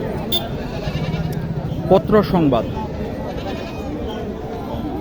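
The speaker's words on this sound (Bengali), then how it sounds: "এখানে কিছু বাচ্চা সহ ছাগলের দাম জানানোর চেষ্টা করি" Goats bleat at Mataji livestock market in Naogaon, with one loud close wavering bleat mid-clip over a steady crowd murmur while someone talks throughout.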